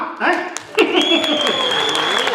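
Audience applause at a stage performance breaks out as a dense wash of clapping that swells after a short moment and holds steady, with voices and cheers mixed in.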